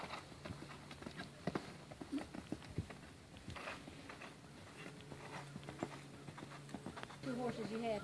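An off-track thoroughbred moves during schooling, its hooves thudding in a soft, uneven clip-clop of footfalls at mid distance. People talk quietly over the steps.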